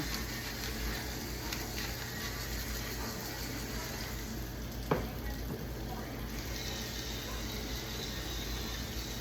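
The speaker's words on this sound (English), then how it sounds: "I just really want to get a good sear on each side with the seasoning" Seasoned chicken sears in a pan with a steady loud sizzle that runs throughout, a single brief clink partway through, with no voices over it.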